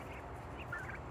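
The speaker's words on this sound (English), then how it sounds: "Turkeys." A short burst of turkey gobbling, a bubbling warble close by over a steady low background rumble.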